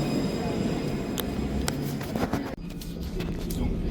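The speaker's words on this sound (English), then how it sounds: "Here's our tram." A tram in Nice bound for Hôpital Pasteur pulls in and keeps running, a steady loud rumble carrying sharp metallic clicks and knocks, with a brief dip near the end and faint voices in the background.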